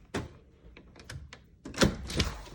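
A door being opened in a house, with several knocks and thumps of the latch and handle followed by two louder, closer bangs as it swings open, no talk over it.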